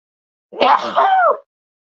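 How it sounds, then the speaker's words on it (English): A single close sneeze, a quick breathy burst lasting under a second, alone in otherwise silence. "Uh-oh, sneeze, hang on."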